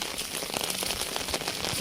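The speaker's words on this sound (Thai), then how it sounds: "ฝนตก" Rain falling on a rice field, a continuous hiss of drops striking surfaces, steady and close throughout with scattered sharper patters and no talking.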